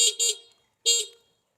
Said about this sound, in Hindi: हॉर्न की जो आवाज़ है वो बहुत ज़्यादा है।